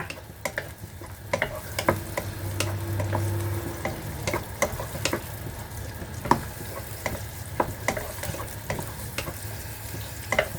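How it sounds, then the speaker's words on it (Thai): Chili and garlic stir-fried in a hot pan as the base for a spicy shrimp stir-fry: a steady close sizzle punctuated by repeated sharp spatula scrapes and clacks against the pan, with no talking. "ผัดก่อนนะคะ ผัดให้หอมก่อนจ้า"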